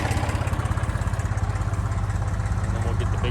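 Steady, rhythmic chugging of a nearby tractor engine idling, a low pulsing rumble throughout with no talking.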